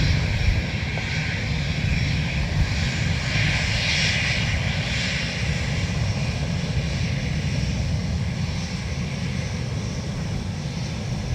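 A Boeing jet takes off at Dublin Airport, its engines giving a steady, loud, heavy rumble with a hissing upper layer that holds fairly even throughout.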